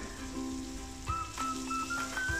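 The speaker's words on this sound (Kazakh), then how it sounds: "Томатымызды салып араластырып қуырамыз." Tomato paste frying in a pan with onions: a soft, steady rain-like sizzle with occasional clinks and stirring knocks, backed by faint tonal music.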